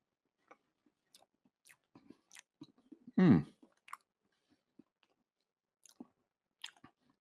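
Someone chews crumbly five-year-old Gouda cheese up close in a quiet room, with soft wet mouth clicks and one louder crunchy bite partway through.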